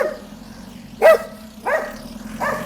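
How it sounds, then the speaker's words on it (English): Dogs bark in Mexico: two or three distinct barks at moderate distance, spaced about a second apart, over a steady low background hum. "all these dogs."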